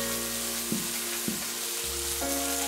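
Cumin and other spices fry in a pan for a mint and coriander chutney. A steady sizzle runs throughout, with a couple of soft stirring knocks and a faint hum underneath.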